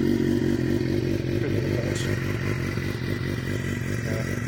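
A 2015 Suzuki GSXR 750 motorcycle engine idles with a slightly uneven, loping pulse, a steady close rumble with faint clattering, and no voices.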